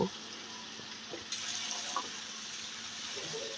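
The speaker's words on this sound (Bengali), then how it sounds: "মাছগুলো খুব ভালোভাবে কষিয়ে নেওয়া হয়ে গেলে এখন কেটে রাখা লাউগুলোকে দিয়ে দেবো" Pieces of bottle gourd added to a pan of fried shrimp and spices, a soft steady sizzle with a few light clinks and knocks, close and moderate, no talking.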